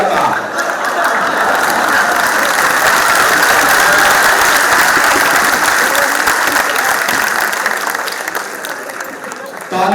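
Loud, dense audience applause at a poetry recital honoring martyrs, sustained across the whole stretch and tapering slightly near the end.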